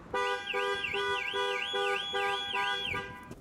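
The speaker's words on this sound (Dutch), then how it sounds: "En dat was weer mijn alarm" An alarm goes off nearby, a loud rising-and-falling electronic warble that repeats steadily for about three seconds and then stops, with no talking.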